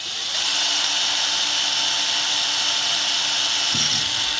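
A power drill runs while a neon sign is being made, giving a continuous loud whirring whine that holds steady from start to finish, with no voices.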